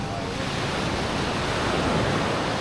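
Surf rolls onto Tando Beach in Infanta, Quezon, a steady broadband wash of breaking waves mixed with wind noise across the microphone, continuous and fairly loud with no speech.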